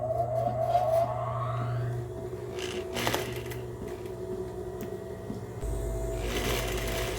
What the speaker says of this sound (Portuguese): Vamos lá costurar?